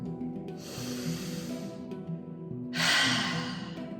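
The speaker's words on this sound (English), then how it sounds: "Let's just take a deep breath in." A deep breath drawn in during a yoga breathwork session, heard as a long, close airy inhale that swells, pauses briefly, then returns as a louder, stronger rush of breath, with no talking.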